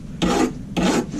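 A hand file removes burrs from a chainsaw bar in two close, loud rasping strokes of metal on metal, each lasting about a quarter second, with no talk.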